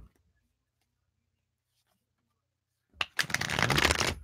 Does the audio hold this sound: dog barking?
no